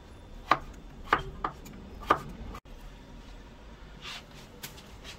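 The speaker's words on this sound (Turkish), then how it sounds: "5 adet orta boy yaklaşık yarım kilo kadar patatesi kabuklarını soyup videoda gördüğünüz gibi ortadan ikiye bölerek doğrayalım" A knife chops peeled potatoes in half on a cutting board, making four distinct sharp cuts in the first half, then faint handling noises and softer taps.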